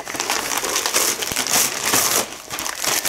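A plastic snack packet being crinkled and crumpled close by, a continuous loud rustling with sharp crackles throughout and no talking.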